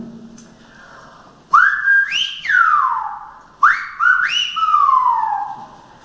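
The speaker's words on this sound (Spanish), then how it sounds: "Vamos a escuchar el silbo de Angelito" Whistled Silbo language of Gran Canaria: two loud, close phrases of sliding, gliding whistles that rise sharply then fall in long descending glides, separated by a short pause, with no speech.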